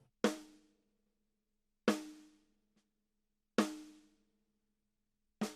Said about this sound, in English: the snare drum in the hi-hat microphone sounds like this